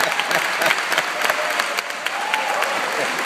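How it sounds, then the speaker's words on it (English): A crowd at a high school graduation ceremony applauds a valedictorian speech, with steady, moderately loud clapping throughout and a few sharper claps standing out. "so round of applause for Wendell"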